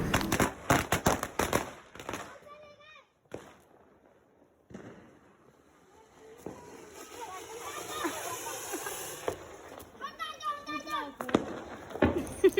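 Diwali firecrackers crackle and pop in rapid bursts, loud and close at the start and again near the end, with voices chattering in between.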